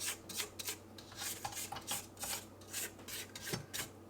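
A spatula scraping the sides of a bowl of banana bread batter, quiet repeated rasping strokes in a loose, irregular rhythm.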